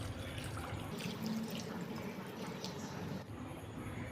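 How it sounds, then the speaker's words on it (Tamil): Water pours into a pot of fish curry in a steady, continuous splashing rush, close by and fairly loud, running without a break for several seconds. "இப்போ நம்ம இந்த மீன் முங்குற அளவுக்கு தண்ணி சேர்த்துக்கலாங்க."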